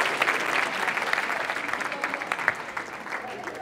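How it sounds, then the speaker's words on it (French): Audience applause at a mini-basketball coaching forum, a steady dense wash of clapping from a crowd lasting throughout, with faint voices mixed in. "je vais vous laisser applaudir les cobayes de cet après-midi"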